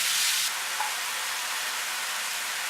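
Minced meat frying in a pan, a continuous even hiss of sizzling fat, steady and close with a brief louder burst at the start, no voices.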